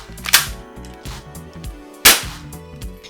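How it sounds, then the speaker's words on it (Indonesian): Spring airsoft shotgun firing, two sharp, loud snapping cracks about 1.7 seconds apart, each trailing briefly, over a soft tonal background. "Sekali kokang, sekali tembak, seperti shotgun ini."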